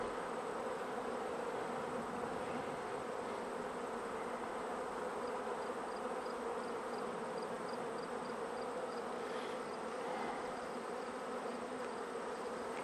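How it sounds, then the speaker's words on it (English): Honey bees swarming over a hive frame produce a steady, dense buzzing drone that continues unbroken, close and moderately quiet, with no talking. "Frame is completely covered with bees"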